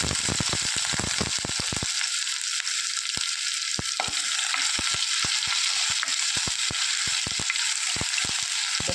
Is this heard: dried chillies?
yes